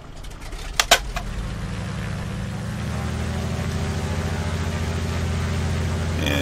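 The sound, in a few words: aircraft engine starting in Microsoft Flight Simulator X video game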